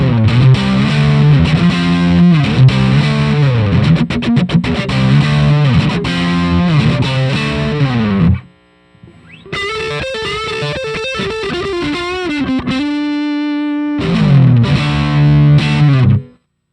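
Electric guitar through a Marshall-like distortion pedal plays loud, close rhythmic riffs, breaks briefly, then plays a sustained melodic line before the chugging riff returns, with no speech.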